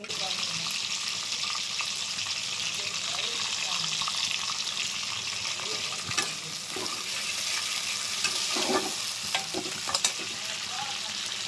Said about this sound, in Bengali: চিংড়ি মাছটা ভেজে দিলাম